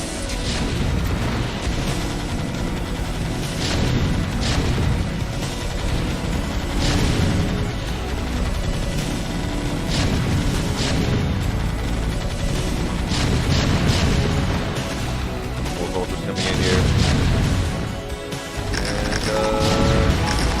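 StarCraft siege tank artillery fire and explosions in a dense, continuous barrage of heavy booms and blasts, loud and sustained without a break.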